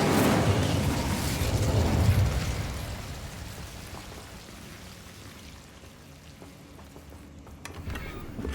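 A fire spell cast in Hogwarts Legacy sounds as a loud broadband whoosh and rumble that swells over the first two seconds, then fades into a quieter crackling tail with faint scattered pops.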